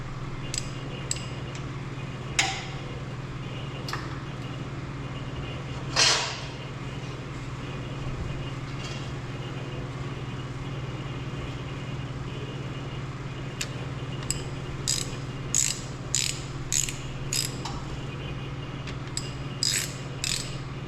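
A ratchet tightening cylinder head bolts on a Detroit Silver 4-53T diesel engine, short clicking bursts spaced irregularly, then a quicker run of clicks toward the end, close over a steady low hum.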